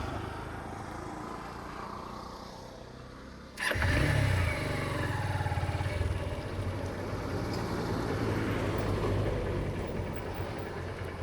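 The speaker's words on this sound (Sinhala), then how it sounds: "පොඩ්ඩක් බයික් එක නවත්තලා බලමු." A motorcycle on a rural road near the Nartupana bridge in Sri Lanka, quiet at first, then a sudden loud burst of engine noise followed by a steady close running drone with wind rumble.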